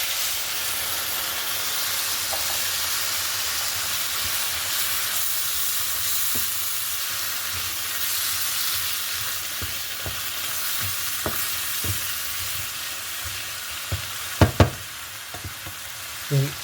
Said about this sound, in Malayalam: ഞാൻ 1/2 ഗ്ലാസ് വാട്ടർ ഇതിനകത്തേക്ക് ആഡ് ചെയ്യണം.